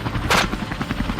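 A low-flying helicopter over a wild boar hunt, its steady rotor drone loud and close, broken by a sharp burst of gunfire from shooters aboard.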